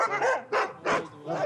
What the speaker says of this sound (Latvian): Apklusināt suņus likās neiespējami, tie rēji bez mitas